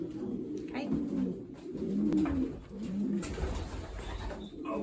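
Racing pigeons coo repeatedly at close range in a loft while they are basketed for races, with low rolling calls over a soft background murmur.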